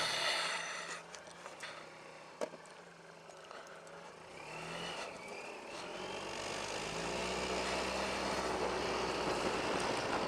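A Suzuki Burgman scooter pulls away on a winter ride, its engine note climbing steadily into a loud, continuous drone with wind rush, the rider silent.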